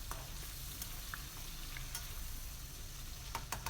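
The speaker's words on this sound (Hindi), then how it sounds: "इसमें 1 टीस्पून जो है साबुत ज़ीरा डाल दिया है और ज़ीरा डाल के इसकी भुनाई कर लेंगे" Whole cumin seeds fry with chicken in a pan, making a faint, steady sizzle with scattered tiny crackles and pops, close by and without talk.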